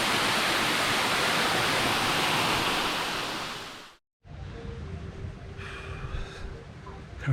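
A secluded waterfall in Bali roars as a loud, dense wash of rushing water for about four seconds, then cuts to quieter ambience with a faint tonal hum and soft background sounds.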